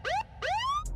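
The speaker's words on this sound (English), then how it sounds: "police sirens" A police siren wails in two quick rising sweeps, loud and close, the second sweep longer than the first.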